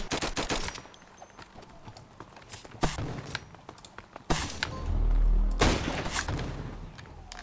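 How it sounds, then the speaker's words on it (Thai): Gunfire in the Roblox game Flag Wars: sharp shots in irregular bursts, some rapid like a machine gun, with a heavier thump in the middle and no voices. "ยิงไม่โดนเลยสักนัด"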